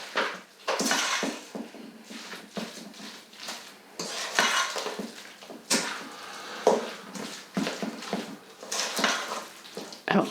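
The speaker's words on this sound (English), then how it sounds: "I'm gonna mix all of this stuff together." Guacamole ingredients being stirred together with lime juice in a bowl, giving a run of close clinking and scraping utensil strokes against the dish in irregular bursts, with no talking.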